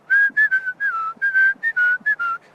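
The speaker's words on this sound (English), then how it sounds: "one person will be whistling" A person whistles a tune while walking along, a series of clear sustained whistled notes with short gaps between phrases, close and alone with no talk.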